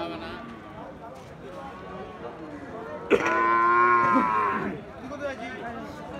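A Sahiwal or Pakra Sahiwal bull calf at a cattle market lets out one loud, drawn-out moo midway, over a low murmur of market chatter and background voices.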